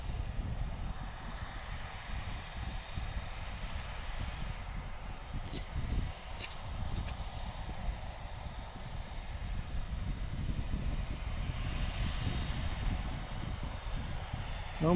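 A heavy cargo jet departs Harrisburg airport at night, a broad, steady engine roar heard from a distance that swells slightly toward the end, with a thin high whine riding above the rumble.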